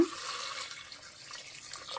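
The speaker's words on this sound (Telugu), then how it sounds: "ఇలా వాటర్ పోసుకొని" Water poured over mutton pieces in a cooking pot, a soft continuous splashing and trickling that runs steadily throughout, close and moderately quiet with no voices.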